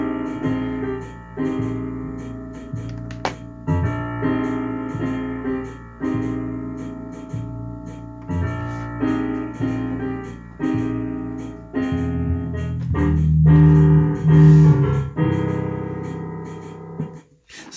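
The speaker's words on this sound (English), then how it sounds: "The drums is just keeping a standard swing beat on the hi-hat," Swing jazz tune, with drums keeping a steady swing pattern on the hi-hat, bass doubling the piano's left hand, and piano chords on top; continuous, full and fairly loud, with a denser passage near the end.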